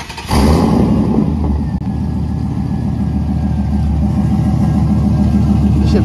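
A dirt bike engine starts and keeps running loud and close, with a steady mid-pitched rattling idle and a faint high whine, and no talk over it.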